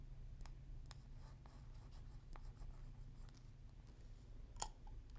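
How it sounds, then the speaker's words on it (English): Colored pencil moving over paper in a mixed media color block piece, soft scratchy strokes and light taps in an irregular rhythm, faint and close against a low background hum, with no talking. "following along with those little marks that I made with my colored pencils."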